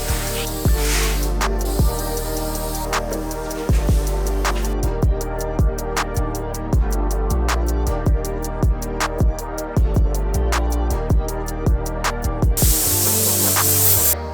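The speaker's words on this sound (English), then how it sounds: "Everything's sanded and cleaned and blown off, ready for some primer. Time to spray." Primer sprays from a paint gun onto widebody over-fenders for an LS1-swapped BMW E36, loud hissing bursts interrupted by rapid rhythmic clicking and short pauses.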